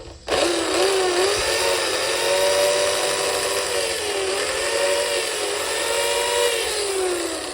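A power strop wheel spins up and runs steadily, a continuous whirring motor hum with a faint rising and falling pitch, close and loud, with no voices.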